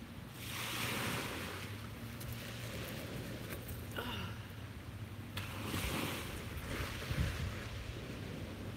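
Wind gusting across a beach at sunrise, buffeting the microphone in uneven surges over a low wash of surf, fairly faint and with no voices.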